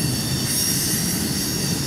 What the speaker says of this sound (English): This train's got a little bit of everything on it.